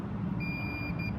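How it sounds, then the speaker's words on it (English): A multimeter gives a steady continuity-test beep while the starting-system wiring of a 2013 Yamaha XT 250 motorcycle is checked. The clear electronic tone starts partway through and holds to the end over a low background hum. "we will test cross there, and we should hear a beep to make sure that it is good"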